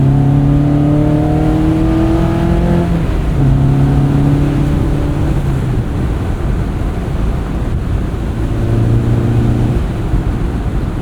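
2001 Honda S2000 driving with its engine revving through the gears, a loud steady roar with rising pitch sweeps and shifts over heavy wind rush, no voices.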